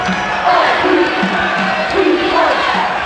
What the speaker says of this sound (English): Crowd's calling for Lindemann